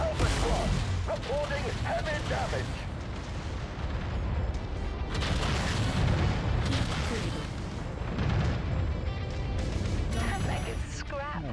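Mech weapons pounding a Griffin mech in MechWarrior 5: Mercenaries co-op, with continuous heavy cannon blasts, booms and explosive impacts layered over engine rumble, loud and dense with a voice talking over it.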